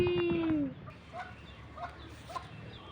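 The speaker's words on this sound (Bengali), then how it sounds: "ওই দেখান মুরগি" A chicken gives a drawn-out, falling call close by, followed by a few faint, scattered clucks over quiet background noise.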